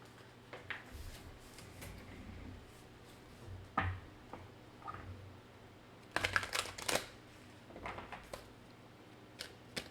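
Oracle cards shuffled by hand, soft scattered riffles and taps in short bursts with quiet pauses between, close and faint.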